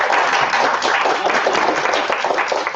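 A conference audience at a health panel discussion breaks into dense, loud, sustained applause that continues steadily throughout.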